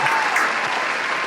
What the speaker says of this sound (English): Can we get a round of applause?